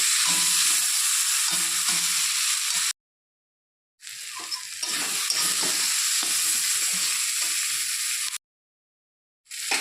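Loud, constant sizzle and hiss of spices and fish curry ingredients frying in a pan for a kalbaush fish curry with borokoli stalks, with stirring scrapes underneath, broken by two brief silent gaps.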